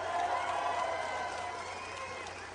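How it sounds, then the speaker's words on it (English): A rally crowd cheers and applauds for two state senators at a political speech in Manchester, New Hampshire, a dense, steady roar of clapping and voices throughout. "Give them a big round of applause."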